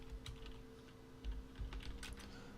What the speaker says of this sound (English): So I type in eBay